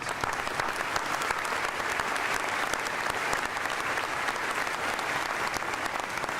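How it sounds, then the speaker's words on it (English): Loud, dense applause from a crowd at a university summer commencement ceremony, continuous and even throughout with scattered sharp claps. "Please give them a round of applause"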